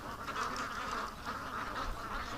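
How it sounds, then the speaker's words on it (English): A noisy flock of alarmed ducks quacks continuously and agitatedly, many overlapping calls at moderate distance with a steady outdoor background hiss. "something's freaking the ducks out here"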